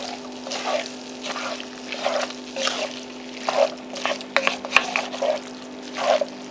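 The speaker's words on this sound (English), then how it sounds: "just mix it to combine everything" A spoon stirs lentil chili ingredients, tomatoes and green onions, together in a pot, giving soft repeated wet sloshes and squelches in an uneven rhythm over a steady background hum.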